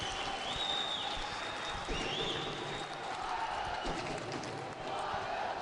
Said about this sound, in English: some of the fans up in their seats applauding the 1 or 2 moves there